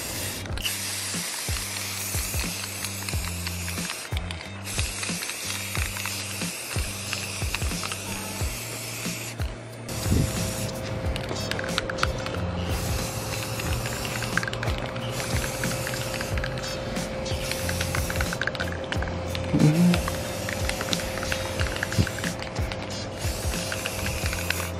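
A spray gun applies paint to car doors on a cut coupe build, giving a steady continuous hiss with brief pauses and trigger clicks, close and fairly loud throughout.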